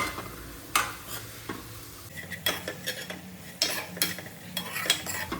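Bitter gourd being sautéed in spiced oil, with a low sizzle under repeated clanks and scrapes of a spoon against the pan, irregular and close, no one speaking.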